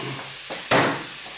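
Onion and pepper fry in a pan with a steady sizzle, broken by a short scrape of stirring and then a louder hiss burst that slowly fades back to the sizzle.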